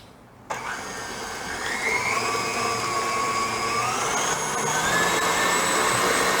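An electric hand mixer whirs into tomato soup cake batter, starting abruptly and rising into a steady, close, high-pitched whine with a subtly shifting motor tone.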